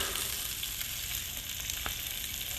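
Salmon fillet searing in a hot pan, giving a steady, close hiss and crackle of frying oil that continues without pause, with no voices.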